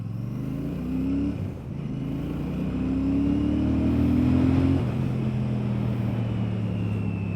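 Royal Enfield Classic 650 motorcycle engine running steadily, then climbing in pitch as it pulls away and accelerates through gears, close and continuous with no voices.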